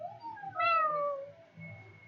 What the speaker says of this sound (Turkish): Gel bir miyavla